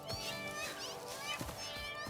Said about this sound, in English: Never been more scared to see cats before.